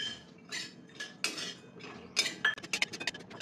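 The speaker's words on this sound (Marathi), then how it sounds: "अक्रोड भाजून घ्यायचे." Walnuts being dry-roasted and stirred in a pan for laddoos: a spoon scraping and clinking against the pan in short irregular bursts, nuts rattling, close and fairly quiet, no talking.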